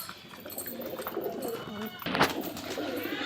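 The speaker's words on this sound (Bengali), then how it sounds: "সব পায়রা জল খাচ্ছে।" Pigeons coo softly while drinking water at a loft, low murmuring calls repeating close by, with a brief rustle or flutter midway.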